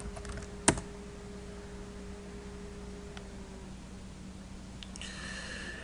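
Typing on a computer keyboard: a few sparse, faint key clicks, one sharp press near the start and a short quick burst at the end, over a quiet room hum.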